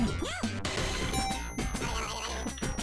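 Snowballs shatter with sharp crunchy smash effects in the retro video game Global Gladiators, repeated amid busy chiptune music and game sound effects, with no talk.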